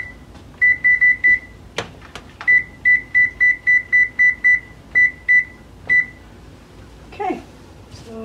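A kitchen oven timer being set while baking apple squares: a series of short, evenly spaced electronic beeps, some in quick clusters, with a couple of sharp clicks and a faint voice near the end.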